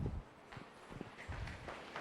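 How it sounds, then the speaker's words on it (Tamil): Audience members at a Rotary training camp in Punjai Puliyampatti tap their feet on the floor: dull, irregular low thumps that overlap into a soft rumbling patter, with no talk. "உங்களோட கால் எல்லாரும் டேப் பண்ண முடியுமா?"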